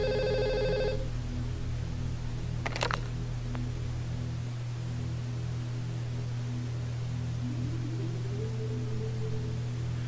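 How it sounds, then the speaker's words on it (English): A telephone rings once in a short burst of about a second at the start, followed by a couple of faint clicks over a steady low electrical hum and background hiss; no one speaks. "Did you guys hear that phone ringing sound?"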